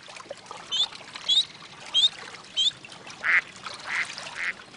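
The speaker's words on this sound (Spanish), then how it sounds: "Caillou no podía imaginar cómo encontraban los patos comida bajo el agua." Cartoon ducks on water give several short quacks in a steady series, followed by soft splashing and dabbling sounds, moderately close.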